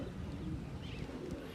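Faint, soft cooing from Punjabi pigeons under a steady low background murmur, quiet and somewhat distant.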